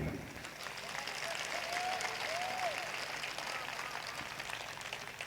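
An audience at a Hindi poetry recitation applauds in a dense, steady wash of clapping that carries on throughout, moderately distant, with a few faint voices mixed in.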